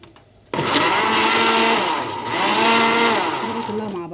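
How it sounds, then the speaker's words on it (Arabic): An electric kitchen blender kicks on abruptly and whirs loudly and continuously, its motor pitch dipping and rising as it purées tomato sauce ingredients for koshari with yellow lentils, then winds down at the end. "الحاجات، المكونات اللي قلت لكم عليها في الخلاط اهو"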